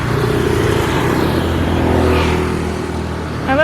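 Steady traffic noise from vehicles passing on a road in Ubud, Bali, a continuous loud engine hum and rumble that swells slightly in the middle, with no talking.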